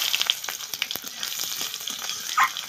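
Onion going into hot oil already tempered with bay leaves, dried red chillies and cumin for a rohu fish curry with potatoes, ridge gourd and spiny gourd: a steady close sizzle with scattered spoon clinks and a brief louder burst near the end.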